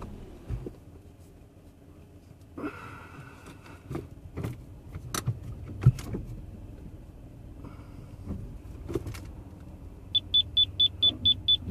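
A rear parking sensor on a Citroen C3 Aircross beeps in a rapid, evenly spaced series near the end while the car reverses. Before that come quiet engine noise and scattered clicks and thumps inside the vehicle.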